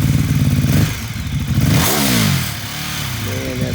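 A used 2014 Ducati Hypermotard 821 ABS sport motorcycle engine revs up and down in loud, close blips, with rising and falling pitch sweeps and a rough idle between them.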